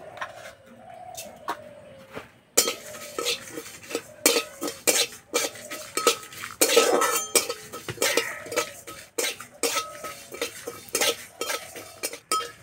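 A spoon clinks and scrapes in a pan as whole coriander and cumin seeds are stirred while dry-roasting, with irregular close metallic knocks and rattles that come in bursts, each followed by brief pauses.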